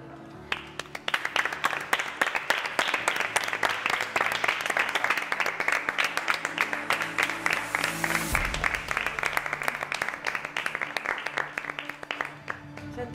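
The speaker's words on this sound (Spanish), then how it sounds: "dale un aplauso o algo. Se lo merece." A studio audience at an Operación Triunfo 2018 gala chat show breaks into sustained applause, loud, fast and dense clapping with a low rumble beneath that drops out midway while clapping continues.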